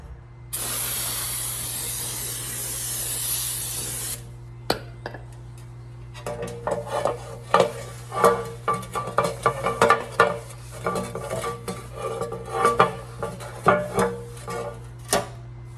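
Cleaning the transmission oil pan of a long-abandoned one-owner Lincoln Mark V: a loud aerosol spray hiss for several seconds, then a pause, then a busy run of scraping and metallic clatter in irregular bursts.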